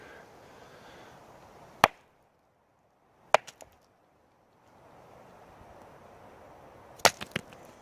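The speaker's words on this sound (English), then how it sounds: "Do a little clack in here" Sharp wooden clacks, a single knock, then one with a short rattle, and finally a quick cluster of clicks, separated by quiet pauses.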